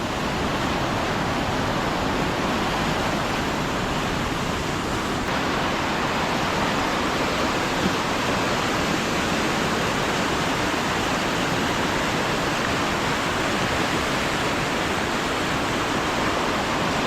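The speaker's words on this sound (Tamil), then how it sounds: "எல்லா இடமும் ஹெவியாக தண்ணி போடுது" A heavy, constant rush of the flooding Kaveri River near Mysore, loud and unbroken for the whole stretch, with no voices.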